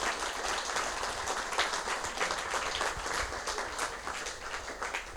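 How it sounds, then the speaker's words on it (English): A seated audience at a community talk in Wotton gives steady, continuous applause, dense and even throughout, with no speech over it. "I would like a round of applause for her to thank her"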